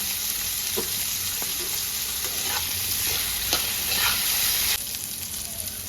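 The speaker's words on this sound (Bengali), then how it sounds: "এবার এগুলো নাড়াচাড়া করে একটু ভেজে নেব।" Sliced bitter gourd and potato sizzle steadily in hot oil while a spatula stirs and scrapes the pan in a few distinct strokes, close and with no talking.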